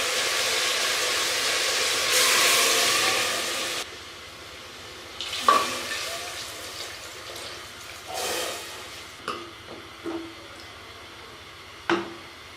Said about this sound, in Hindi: पाए को तकरीबन मैंने 2 से 3 मिनट भून लिए हैं। इनकी अच्छे से भुनाई कर दी है। तो अब मैं इसमें पानी